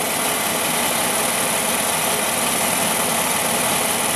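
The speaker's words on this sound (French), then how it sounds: "Le moteur, on l'entend à peine tourner," A 1954 Ford F100 pickup engine idles smoothly and steadily, a dense continuous rumble with no rises or talk, heard close and at even loudness throughout.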